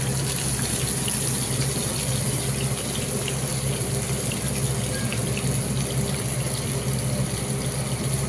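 Tap water runs steadily and fairly loudly into a sink while cumin seeds are rinsed, a continuous gushing wash with no pauses and no voices.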